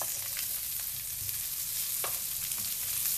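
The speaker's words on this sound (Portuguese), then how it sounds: "vamos deixá-lo" Salmon sizzling in olive oil in a pan, seasoned with salt and black pepper, giving a steady close frying hiss with scattered small pops, no talking.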